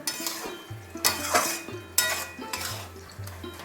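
A spatula stirs banana flower chanakanna, a Bengali vegetarian dish seasoned with garam masala, in a pan: close, rhythmic scrapes and metallic clinks in repeated strokes, with no talking.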